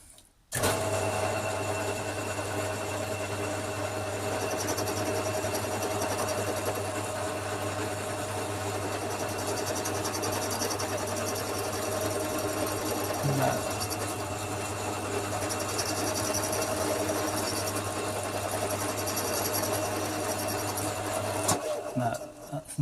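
A cutter tool works a 1939 Hillman Minx cylinder head with a steady, close mechanical whirring and droning hum that runs almost without change for about twenty seconds, then stops.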